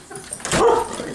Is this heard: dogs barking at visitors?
yes